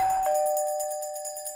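A single bright bell tone rings out clearly and sustains, slowly fading with a shimmering high overtone.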